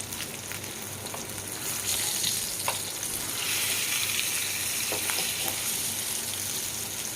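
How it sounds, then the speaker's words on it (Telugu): Fish pieces frying in oil in a pan over a medium flame, with a continuous close crackling sizzle that swells slightly midway, plus a few faint clinks, and no talk. "మీడియం ఫ్లేమ్లో పెట్టుకొని బాగా ఫ్రై చేసుకోవాలి"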